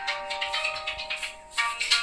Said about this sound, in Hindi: तेरे पिताश्री का फोन आ रहा